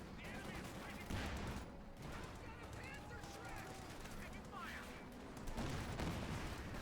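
Heavy gunfire in the World War II strategy game Company of Heroes 2, a steady rattle of rifle and machine-gun bursts with occasional louder blasts, kept low and continuous under a commentator's voice.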